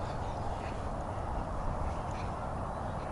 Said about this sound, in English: Certainly is a lot of bird activity over here